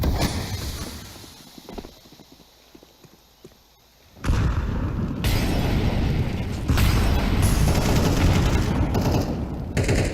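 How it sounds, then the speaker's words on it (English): Loud, dense rattling bursts from an incendiary grenade and fire in a tactical shooter video game, starting abruptly after a quieter stretch and continuing as a harsh, continuous crackle. "Incendiary. Flashback. Throwing fire."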